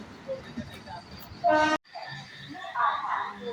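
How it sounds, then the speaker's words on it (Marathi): A short, loud train horn blast rises over rumbling rail noise as a Konkan passenger train departs Ratnagiri, with people talking nearby before and after. "आपली ट्रेन बघा निघालेली आहे"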